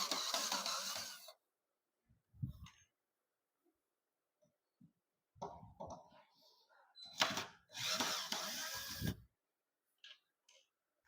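Power drill removing screws from a teak wood swing, short high whirring bursts separated by silence, with quiet handling clunks between them, close and fairly soft.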